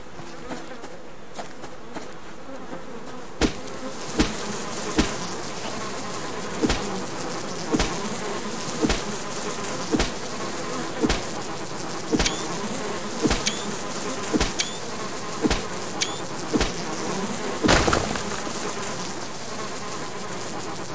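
Steady insect buzzing hums throughout, with a series of sharp clicks or taps recurring roughly every second over the drone.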